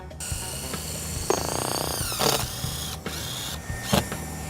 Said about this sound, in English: We're just going to put 4 fasteners in.